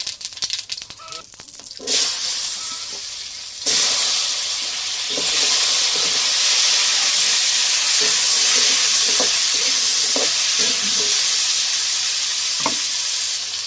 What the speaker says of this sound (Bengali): তেজপাতা দিয়ে দিলাম, গরম হয়ে গেছে তেল, শুকনো লঙ্কা আর 5 ফোড়ন দিয়ে দিলাম